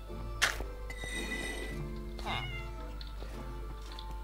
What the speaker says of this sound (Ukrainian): Я тільки що чув кота.